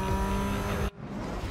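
A car engine revs hard under acceleration in the NFS Most Wanted Redux racing game, then cuts off abruptly into a quieter hum.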